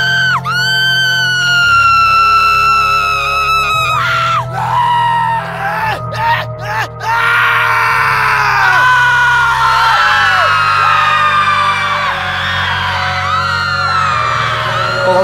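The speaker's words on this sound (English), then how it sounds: "What's a good Halloween collection without some screams to tickle your sadistic fantasies?" Layered horror screams, shrill shrieks and wailing yells overlapping one after another, loud and piercing, with a few sharp bangs mixed in.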